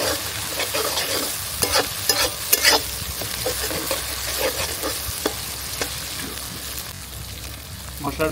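Garlic and chili paste masala is stirred in an oily pan, a spatula scraping and clacking over a constant soft sizzle from start to finish.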